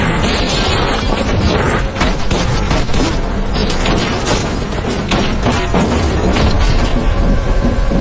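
Gunfire in a mafia action film, a dense, loud barrage of shots mixed with heavy booms and crashing impacts that runs without pause for the whole stretch.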